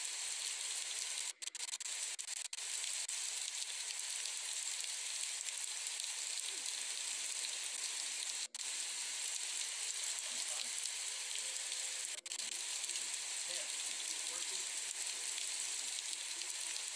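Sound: heavy rain hitting the ground

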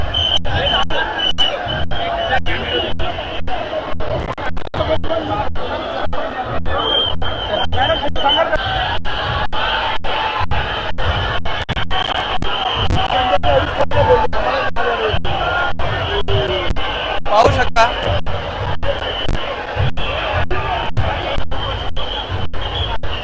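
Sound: crowd bustle at Chintamani Ganesh arrival festival

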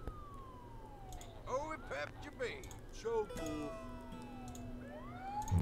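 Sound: ambulance siren in SimCity video game

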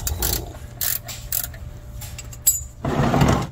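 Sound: ratchet loosening oil pan drain plug on 1996 Jeep Cherokee

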